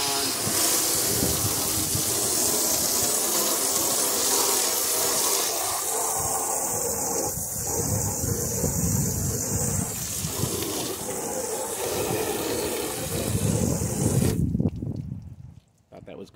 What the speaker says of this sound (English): So there's the sheeting action with just kind of high pressure water stream